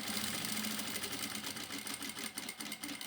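A sewing machine runs continuously, stitching a seam in fabric for a small jewelry pouch, with a steady dense motor whir and rapid needle rhythm that dips briefly near the end before resuming.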